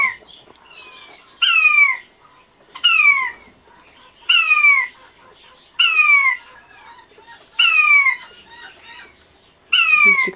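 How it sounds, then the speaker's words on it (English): A pet quail calls out to other quail in an outdoor aviary, giving six evenly spaced bursts of bright, warbling chirps about every one and a half seconds, close and fairly loud over a quiet room. "He's calling to the others."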